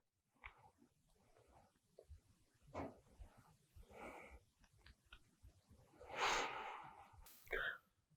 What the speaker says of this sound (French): 3 grandes respirations ici.